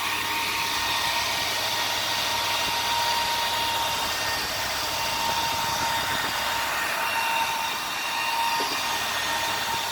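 A NIDEC Beta 5 computer case fan runs at close range, giving a steady, even whoosh of blown air that holds at a constant level for the whole stretch with no talking.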